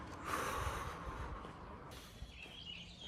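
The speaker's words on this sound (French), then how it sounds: "faut que je fasse des respirations" During a breathing exercise, a person takes a forceful, snort-like breath close to the microphone, then the sound fades into quieter breathing and room noise.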